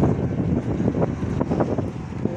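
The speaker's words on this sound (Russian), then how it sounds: "Блин, холодно. Ветер такой." Gusty wind buffets a microphone with loud, rumbling low roars that keep rising and falling.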